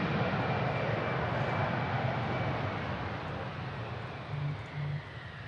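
Iberia Express aircraft at Manchester Airport, a broad engine rumble heard from a distance that is loudest at first and fades gradually, with a couple of low bumps near the end.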